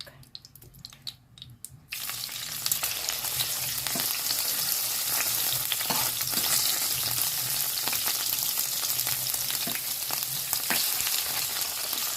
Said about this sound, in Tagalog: At iperito na natin yung ating pork.